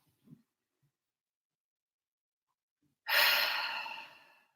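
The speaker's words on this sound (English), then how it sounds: "Take a deep breath in through the nose and out through the mouth." One long, deep breath pushed out through the mouth, close and breathy, comes after a few seconds of near silence and fades gradually.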